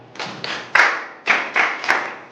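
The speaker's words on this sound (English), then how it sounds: "Clap for her." A primary school class claps for a student in a few short, uneven bursts, roughly five quick rounds of close group clapping, each fading before the next starts.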